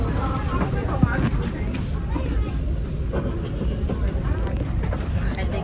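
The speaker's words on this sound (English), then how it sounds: "We rented a whole metro." Rumbling ride aboard a rented metro train, a continuous low roar of wheels and carriage noise throughout, with people talking over it.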